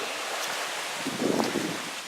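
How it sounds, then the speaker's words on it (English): Wind blowing across a lake shore along an old beach, a steady broadband rush with a slightly stronger gust near the end, no voices. "It's windy here."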